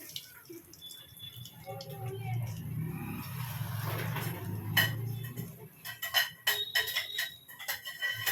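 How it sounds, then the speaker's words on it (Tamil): Mustard seeds tipped into hot oil, starting as a low frying hiss and turning into a run of sharp, scattered popping and crackling clicks near the end. A person speaks quietly under it. "ஓகே, இப்போ நான் கடுகு போட்டுக்கிறேன்"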